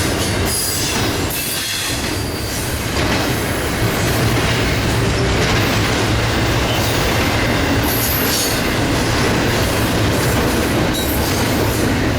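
Loud freight train rolling past close by on the tracks, a continuous heavy rumble of railcars with clattering wheels and bright squeals throughout, no voices.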